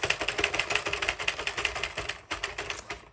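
A Sentro knitting machine is cranked a full turn with no yarn fed in, giving a fast steady run of plastic clicks and ratcheting taps up close, briefly stopping near the end before picking up again.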